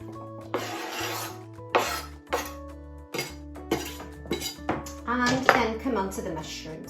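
Chopped chestnut and ordinary mushrooms go into a frying pan with a series of close clinks, scrapes and rasping scrapes, over a steady musical background.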